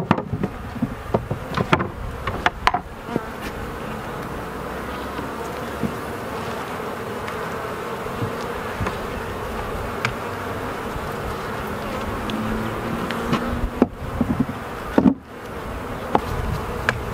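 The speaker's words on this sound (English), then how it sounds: "Just brushing the bees off so I don't carry them to the house." Honey bees buzz densely around an open hive in a beekeeper's yard, a steady close drone with a few sharp knocks and clatters of hive equipment scattered through.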